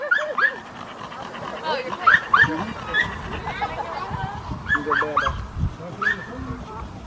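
A scared puppy whimpers and yips with short barks, close by, at an outdoor truck meet with people chatting and a background crowd murmur.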